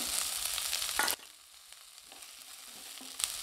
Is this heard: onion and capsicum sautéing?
yes